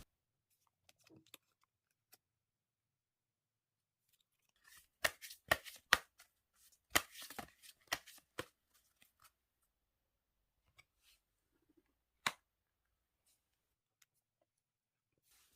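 Tarot cards are handled on a quiet table: scattered soft taps and slides, then a cluster of crisp snaps and flicks as the deck is shuffled and a single card is drawn, with one last sharp click.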